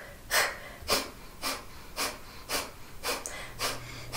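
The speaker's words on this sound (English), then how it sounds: "Think of little tiny sniffs out your nose, little sniffs." Kapalabhati breathing: a rhythmic series of eight short, sharp nasal exhales, evenly spaced about half a second apart, close and clear with no talking.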